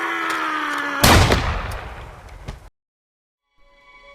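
A single loud gunshot in the 2010 film KGD cracks out sharply over a droning tone, then rings off in a decaying echo before the sound cuts to near silence.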